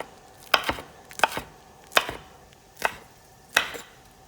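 A knife chops hot Thai chili peppers into large pieces on a board. About six crisp, close knocks fall at a slow, even pace, some doubled, with no talk.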